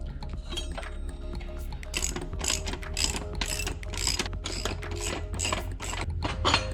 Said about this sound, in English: Go ahead and remove this brake off of here.